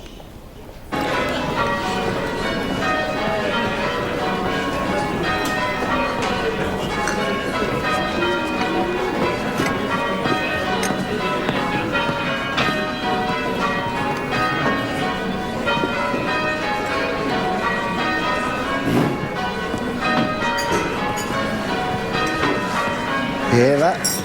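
Church bells rung by a team of bell ringers peal continuously in overlapping, layered strikes, loud and steady throughout, with one bell falling late in the sequence.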